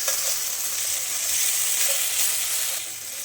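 Ginger and green chilli paste sautés in hot oil with a continuous, fairly loud hissing sizzle that eases slightly near the end.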